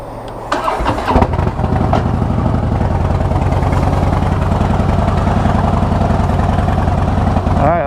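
A Harley-Davidson motorcycle engine fires up with a sudden blast and holds a loud, throbbing, rumbling roar close by during a burnout, staying steady for several seconds without talk.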